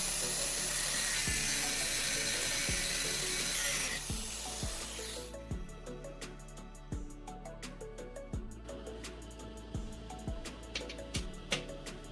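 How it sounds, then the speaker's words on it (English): A welded metal bar made from old bearings is cut through the middle with a steady, dense grinding hiss that cuts out after about four seconds, followed by a series of sharp, regular clicks and taps up close. "I'm precisely marking and cutting the welded bar right through the middle"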